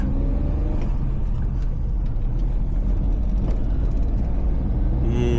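A vehicle with Kerala registration passes on the scenic hill road from Gudalur to Ooty, a steady loud engine and road rumble running unbroken throughout, heard close from inside a moving vehicle.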